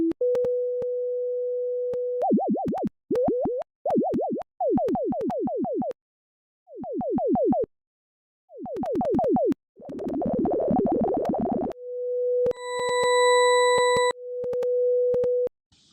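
Chiptune-style synthesized gun effects made in ChipTone: steady sine tones broken by rapid wobbling bleeps, rhythmic bursts, a harsh noisy blast and a bright harmonic tone, each played alone in sequence, loud and electronic.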